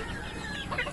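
Young chicks clucking and peeping in a backyard flock, a brief close cluster of soft calls lasting about a second.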